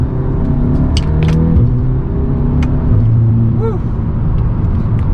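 A Volkswagen with a 7-speed DSG gearbox in manual mode accelerates from inside the cabin, engine droning loudly with rising tones and brief dips at the shifts, while a voice briefly exclaims.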